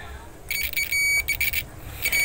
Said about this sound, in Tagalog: kung narinig nyo guys, may buzzer sound